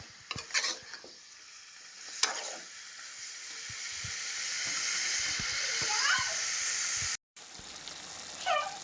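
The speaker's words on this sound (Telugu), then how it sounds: "చికెన్ అయితే ఎలా ఉడుకుతుందో చూడండి ఫ్రెండ్స్" Chicken curry with ginger paste and turmeric simmers and sizzles in a pan, a steady hissing bubble with scattered stirring clinks and a brief cutoff near the end.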